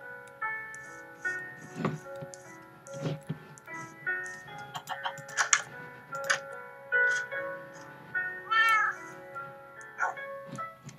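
Minecraft cat gives a series of meows scattered through the stretch, mixed with tonal game music notes and light ticking, fairly close and clear.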